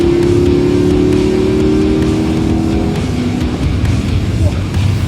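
A race car's engine note drops as it brakes hard at the 24 Hours of Le Mans, loud and close, amid a continuous roar of motor noise.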